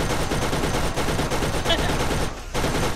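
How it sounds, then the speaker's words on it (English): A turret machine gun fires in the Borderlands video game, a dense, continuous burst of rapid shots at steady loudness, with only a brief dip near the end. "I am now in control of the turret"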